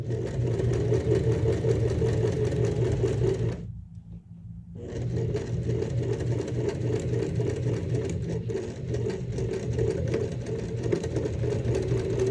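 A sewing machine stitches quilt fabric squares in a fast, steady mechanical hum, loud and close, pausing briefly for about a second before running on without speech.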